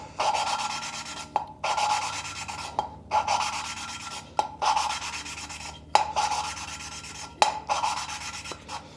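A valve is lapped into its seat on a Ford 460 big-block engine. A gritty rasping scrape repeats in steady back-and-forth strokes, close and clear, with brief pauses between them and no voices.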